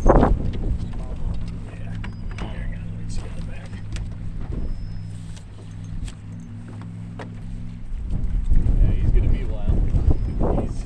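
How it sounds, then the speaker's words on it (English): An electric trolling motor on a fishing boat hums steadily at a low pitch for about eight seconds, close to the microphone, with wind buffeting and people talking nearby; the hum stops near the end as voices and handling noise grow louder. "You want me to run the trolling motor?"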